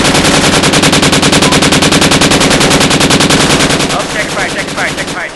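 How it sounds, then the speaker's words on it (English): Gunfire in the video game Project Reality: loud automatic bursts repeat rapidly and evenly for about four seconds, then thin out as a voice briefly exclaims. "Start shooting bullets at it."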